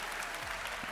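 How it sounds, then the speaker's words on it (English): A crowd at a MagicCon Amsterdam cosplay contest claps for a first-time cosplayer, a brief, fairly faint burst of steady applause. "that here. deserves a round of Incredible. applause"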